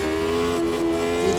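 Race car engine in the sim racing game Automobilista 2, a loud steady high-pitched drone climbing in pitch as the car pulls hard under throttle, close and continuous.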